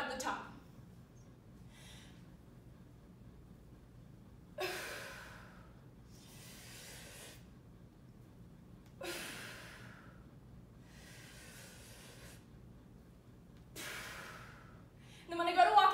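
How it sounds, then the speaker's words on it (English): Heavy breaths accompany a barbell back squat: about three loud, close exhalations come at regular intervals of roughly four to five seconds, with quiet stretches between them. "I'm going to breathe in as I go down, and I'm going to hold it as I come up, breathe out at the top"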